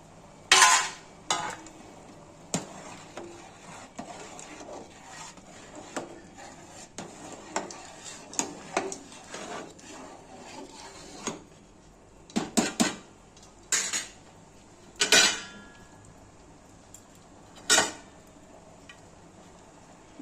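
Boiled potatoes, cauliflower and bottle gourd tipped into khichuri in a pot, with sharp metal spoon clinks and clatters against the vessel, scattered at first then several louder knocks near the end, close and without talk.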